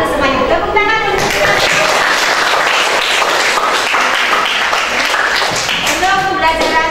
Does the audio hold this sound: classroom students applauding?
yes